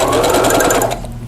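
A sewing machine stitching table runner fabric, a loud rapid mechanical chatter running continuously, then easing off slightly at the end.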